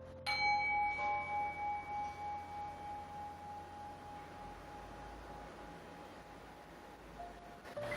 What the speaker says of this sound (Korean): 종소리에 집중하셔서 11월 한 달의 흐름을 상상해주세요.